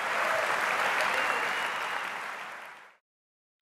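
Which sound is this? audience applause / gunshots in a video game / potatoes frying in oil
audience applause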